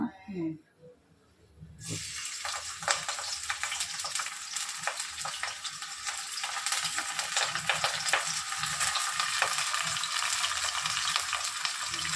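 Onion, green chili and curry leaves tempering in hot oil in a pan, a steady loud sizzle and crackle that starts abruptly after a brief moment of quiet and continues alone to the end.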